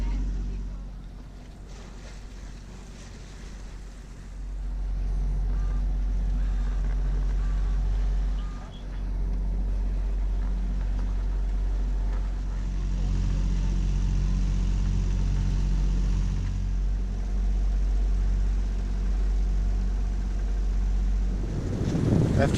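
A sailboat's engine runs steadily at sea near the reef off Anholt, Denmark, a continuous low droning hum with a few brief dips, fairly loud and alone throughout.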